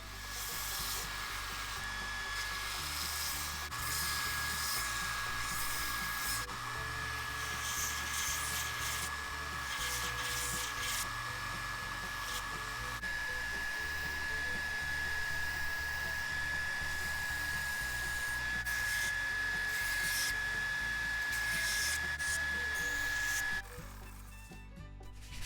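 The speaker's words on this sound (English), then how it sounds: "I'm going to round it out on the belt sander and then make my shape" A belt sander shapes a wooden turkey call, a steady whirring motor drone with a thin high whine and shifting grinding as the wood is pressed against the belt, continuous and close.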